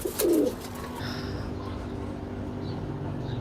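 Pigeons coo in a loft, one throaty, close coo rising briefly at the start, followed by soft, low cooing and faint chirps over a steady background murmur.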